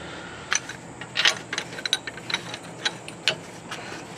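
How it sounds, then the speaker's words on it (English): A ratcheting torque wrench tightens the bottom bolt of a sway bar end link on a 2002–2009 Chevrolet TrailBlazer, giving a series of quick, close metallic clicks in short irregular bursts. "now we'll just go ahead and torque the bottom one"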